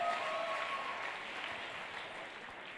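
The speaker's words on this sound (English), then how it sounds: "Can we just give him a round of applause?" Steady, full applause from an audience at an indoor conference-style gathering in Thailand, a dense wash of clapping held at an even level for its whole length with no talk on top.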